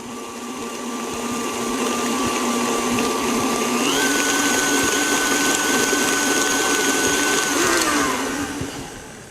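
An electric mixer whirs steadily and loudly, blending a peanut butter chip mixture with coconut oil; the motor pitch shifts slightly partway through and again near the end before it winds down.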